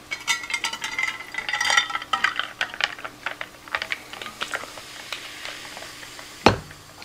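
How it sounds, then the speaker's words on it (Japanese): Food sizzles while cooking at home, with dense, irregular crackles and pops close by that thin out over time, and one sharper clatter near the end. "ジュージュー言うとるわ。"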